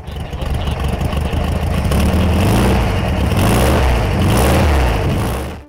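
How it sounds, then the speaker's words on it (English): A freshly built 1800cc stroker engine in a VW Beetle fires up for the first time and runs loud and close, a steady throaty mid-pitched roar with rising revs that holds, then cuts off near the end. "the first start-up of our 1800cc stroker engine"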